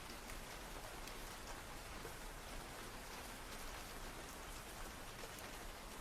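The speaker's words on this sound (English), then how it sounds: "with rain tapping against your window" Steady rain pattering on a surface, like drops tapping a window, forms a dense, even hiss with no pauses across the whole stretch, heard close and at moderate level with no voices.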